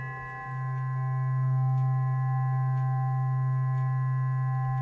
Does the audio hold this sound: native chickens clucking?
no